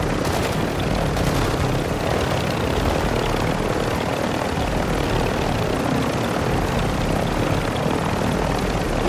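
Helicopter rotors and engine drone loudly and steadily throughout in a video game mission, a dense continuous chopping roar with no talk over it.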